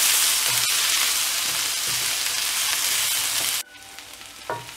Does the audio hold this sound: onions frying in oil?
yes